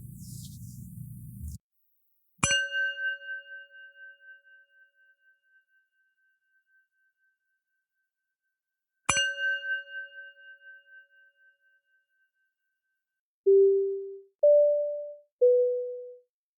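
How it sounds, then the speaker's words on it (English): Electronic chimes open a podcast: two struck bell-like tones, each ringing out and slowly fading, then three short rising and falling notes, all clean against silence after a brief burst of noise. "The show will begin after the following chimes."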